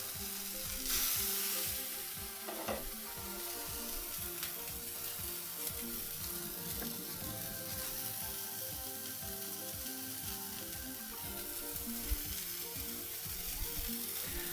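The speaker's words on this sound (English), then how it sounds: "I'm searing my beef off." Beef seared in one large piece in a hot pan, a steady loud sizzle and spatter of frying running throughout with occasional stir or scrape noises, no talking over it.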